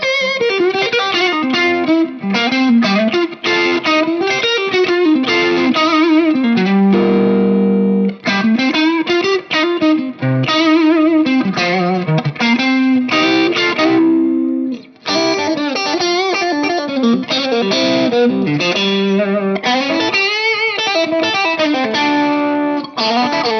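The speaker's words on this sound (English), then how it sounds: "when you push it with a Tube Screamer harder, it kind of gives you that nice little bit of kind of squish and kind of compression under your fingers" Electric guitar driven hard through a Tube Screamer overdrive, playing loud, continuous distorted blues phrases with a compressed, squishy edge and two brief pauses.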